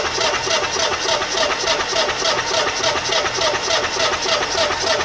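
A generator engine cranking over during a compression test, a loud, steady rhythmic churning of the starter turning the engine without it firing, heard up close for the whole stretch.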